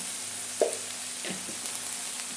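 Salted fenugreek leaves fry in a pan with a low, even sizzle, broken by a couple of soft stirring scrapes.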